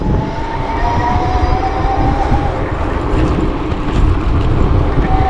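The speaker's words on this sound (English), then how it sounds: "Let's see how fast I can go on throttle only." An e-JOE JADE 750 electric bike accelerates on throttle alone, giving a steady, close motor whine over continuous road and wind rumble, with no talk.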